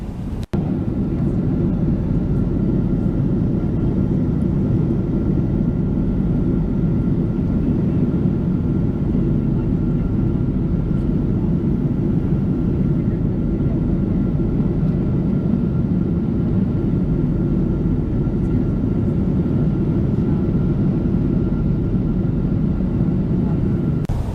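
Steady, broadband engine rumble and air roar fill the economy cabin of a Delta Airlines Boeing 777-200 cruising from Atlanta to Honolulu, a constant drone with no break for the whole stretch.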